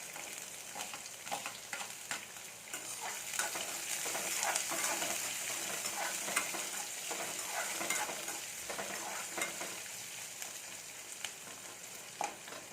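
A large chopped onion sizzles in hot oil in a pan while wheat rava upma is being prepared, a steady crackling fry with occasional stirring scrapes, close and moderately quiet, with no talking.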